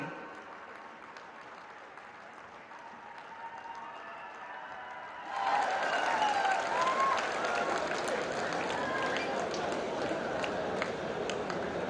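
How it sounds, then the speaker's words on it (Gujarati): An audience at a train flag-off ceremony at Ahmedabad's GMDC ground applauds as modern trains, including the Namo Rapid Rail, depart. Dense clapping suddenly swells midway and carries on steadily, with a voice faintly underneath. "આવો આધુનિક ભારતની આધુનિક ટ્રેન્સને તાળીઓથી આવકારીએ"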